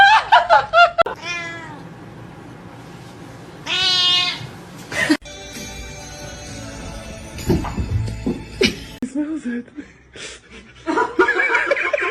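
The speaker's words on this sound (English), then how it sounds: "This is my cat, Mimi." A pet cat meows indoors, several loud, close, drawn-out calls spread across the clip, with laughter and brief human sounds in between.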